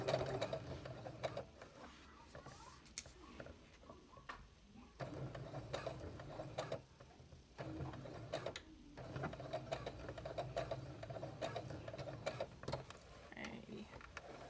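A sewing machine stitches through thick layered pleats of a fabric face mask in uneven bursts of rapid mechanical ticking, pausing and restarting several times close by, with a voice speaking faintly underneath.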